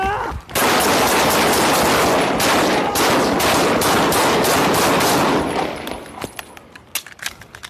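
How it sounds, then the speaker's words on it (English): Rapid sustained burst of gunfire during a police shooting, loud and dense for about five seconds, then tapering into scattered clicks and rattles as the firing stops. "Shots fired, officer down, suspect down."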